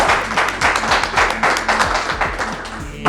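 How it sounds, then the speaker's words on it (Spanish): Audience applause after an introduction at an educational session, a dense burst of many hands clapping steadily and loudly for about three seconds, then tapering off. "Y un aplauso, por favor."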